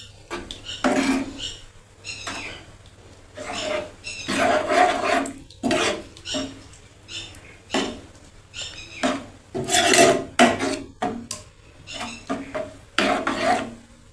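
Okra curry stirred and mixed in a pot with a spoon, giving repeated scraping, rasping strokes in an uneven rhythm, close and clear with no talking.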